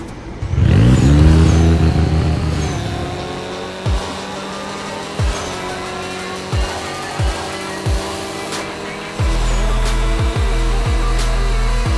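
A vehicle engine in the Roblox Jailbreak game revs up loudly at the start, then settles into a quieter run broken by several short thumps before a steady, stronger engine drone takes over near the end.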